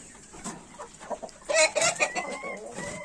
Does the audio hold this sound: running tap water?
no